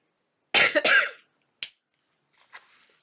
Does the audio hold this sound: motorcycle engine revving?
no